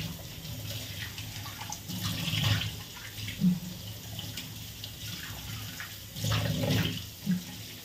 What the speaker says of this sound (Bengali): এবার মুখটা ওয়াশ করে নেব।